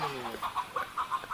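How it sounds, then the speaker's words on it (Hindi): A chicken clucks in quick, repeated bursts as it is shooed away from harvested rice in a village setting, fairly close and steady, with a voice audible at the start. "भगा मुर्गी को भगा, हमारा धान काट रहा है।"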